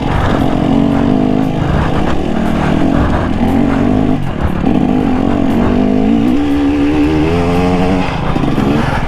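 A KTM 300 two-stroke dirt bike engine revs loud and close for the whole stretch, its buzzing pitch rising and falling steadily with no pauses.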